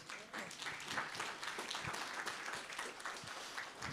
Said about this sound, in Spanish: una vez más fuertes aplausos.